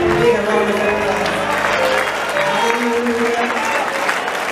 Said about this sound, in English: give a JC a big round of applause.